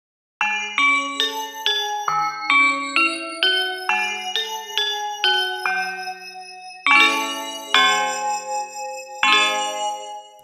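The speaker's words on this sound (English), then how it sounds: "Let's go to the Great Bells of China." Bell samples from the Great Bells of China Kontakt library, a series of struck, ringing bell tones played as a melody of about fourteen clear strikes, each decaying into the next, alone with no talk.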